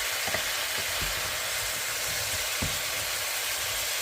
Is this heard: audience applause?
no